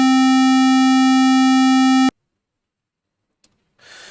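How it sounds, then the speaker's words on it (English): A loud, buzzy square-wave tone from a modular synth oscillator with no volume control holds steady for about two seconds, cuts off abruptly, then a small click and faint noise follow. "So if I take a square wave, cover your ears now because it's going to get very loud."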